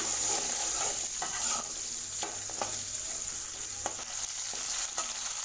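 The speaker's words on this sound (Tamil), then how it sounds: "வெங்காயத்தை நல்லா வதக்கி வச்சுக்கோங்க." About fifteen whole small shallots sauté in hot oil with asafoetida for a bitter gourd kuzhambu, giving a constant crackling sizzle. Occasional light stirring taps sound close by, and no one speaks.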